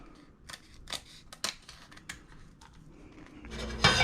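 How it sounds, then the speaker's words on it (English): Scissors cutting tortillas into strips in a home kitchen: a quick run of crisp, close snips at an irregular rhythm, with a louder burst of noise at the very end. "the easiest way to do this is just to take a pair of scissors"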